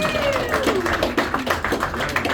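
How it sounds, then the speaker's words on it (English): Applause for a volunteer named Hunter at a magic show at House of Cards in Nashville: a brief, moderate patter of hand claps from a small audience, with a voice talking over it. "Round of applause for Hunter."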